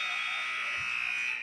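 A basketball buzzer sounds the end of the first half in an NDP vs Linden game. It is one loud, steady electronic tone that holds for the full moment over arena noise.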